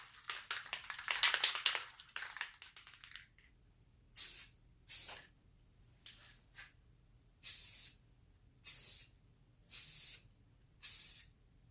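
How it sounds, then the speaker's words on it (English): Aerosol clear coat sprayed onto Infiniti G35 tail lights, a long hissing spray followed by a series of short, evenly spaced bursts, close and alone. "Put on our second coat of clear coat."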